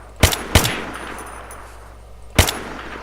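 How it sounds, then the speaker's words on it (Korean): In the video game Unturned, a gun with a 100-round drum magazine fires three loud, sharp shots. Two come in quick succession, and a lone shot follows after a short pause. "이제 다 쓸어주마. 이 100발짜리 총으로 드럼 탄창이네"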